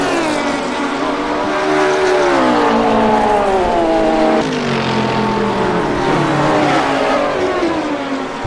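GT race cars, including a McLaren 650S, howl at full throttle around Virginia International Raceway, engine notes climbing and dropping through gear changes as cars pass close by, loud and continuous with no voices.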